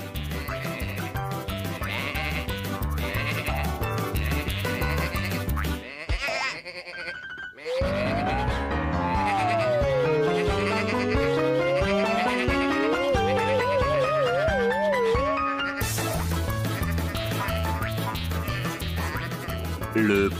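Cartoon sheep bleat and warble in a French children's animated series about a farm tractor, playful and bright over busy, loud music throughout, with a short quieter gap partway through.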